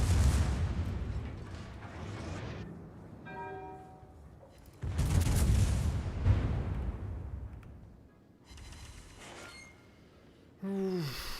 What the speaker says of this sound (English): God, there's so much secondary fire from the French battleships.